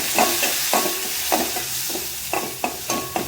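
Tomato sautéing in a pan with cumin powder, heard as a loud hiss of frying under a series of quick, rhythmic scraping stir strokes, close up with no talk.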